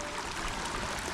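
A stream flows on a Narmada parikrama footpath, a steady broadband rush of water that stays constant and fairly near, with no voices.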